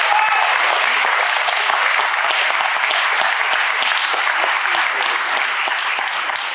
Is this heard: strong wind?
no